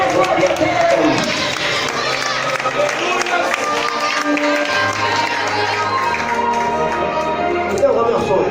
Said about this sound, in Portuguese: Quem pode aplaudir o nome de Jesus, aplaude bem forte, e mais forte, e mais forte